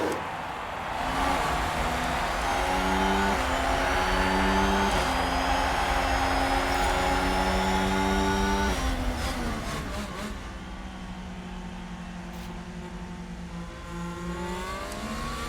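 Formula 1 race cars launch off the start at the Hungarian Grand Prix in the video game F1 Manager 2022. Engines scream loudly together, rising in pitch through several gear changes, then fade slightly as the pack pulls away.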